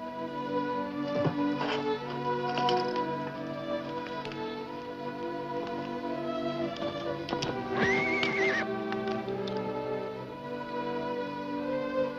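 A horse whinnies loudly a couple of times while hooves clip-clop steadily nearby over a constant background hum.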